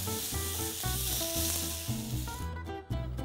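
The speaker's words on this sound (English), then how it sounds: "Now these grapes I'm gonna just toss in the pan." Grapes, some whole and some cut, tumble into a hot pan with seared fennel, setting off a steady, fairly loud sizzle with music playing over it throughout.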